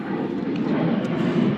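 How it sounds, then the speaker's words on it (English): An airplane passes overhead, a steady broad roar that fills the clip at close range and drowns out other sound, with no talk over it. "this airplane that's killing my sound"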